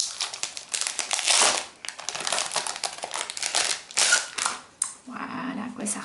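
Crinkly plastic packaging around acrylic stamp blocks being torn open, giving close, loud crackling and crumpling in dense bursts with brief pauses, without speech.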